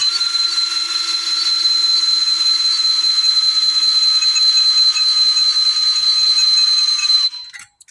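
A cordless drill with a nearly dead battery whines steadily at a high pitch for several seconds, close and loud, then winds down and stops.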